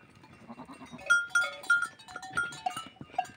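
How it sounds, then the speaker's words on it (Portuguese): A young goat at a goat-breeding farm in Brazil's northeast bleats in a series of short, high, nasal calls, with several more close and clear cries following over light farmyard background noise. "Esse cabrito aí, ó, perto do bode"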